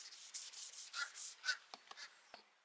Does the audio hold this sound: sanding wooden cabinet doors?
yes